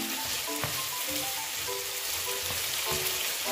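Green chilies and capsicum fry in a hot pan with a dense, steady sizzle that holds throughout, with occasional soft knocks and stirring sounds in the oil, close by and fairly loud.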